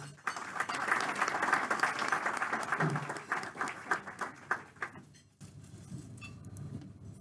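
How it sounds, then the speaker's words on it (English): An audience applauds with dense clapping that swells, then thins to scattered claps and fades into quieter room murmur. "Let's give her a round of applause."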